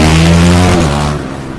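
A Stuttgart team Formula Student race car at Formula Student Germany speeds past during the endurance event, a loud close engine roar whose pitch drops as it passes and then fades.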